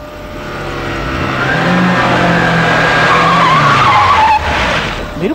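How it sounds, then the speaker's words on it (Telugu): A car races in at high speed, its engine roaring up close before the tires screech into a long, loud skid that ends abruptly. "మెరుపు వేగంతో కారు వచ్చాగింది"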